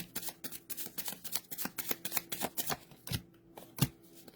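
A deck of tarot cards is shuffled by hand in quick, crisp bursts of riffling and slapping, close up and fairly quiet, with short pauses between the flurries.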